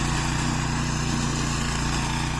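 A Bowin ride-on lawn mower with two-wheel drive and tractor-tread tires runs steadily during a hard test, its small engine droning loud and close with an even, continuous hum and no talking.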